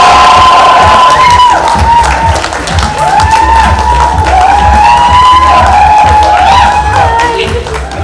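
Loud, dense crowd cheering and applause at a Bollywood red carpet event, sustained throughout with whoops and shouts layered over clapping and scattered voices.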